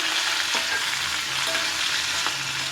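Cumin, turmeric, curry leaves and a green chili tempering in hot oil in a pan, a steady close sizzle and crackle with a few stirring scrapes, no voices.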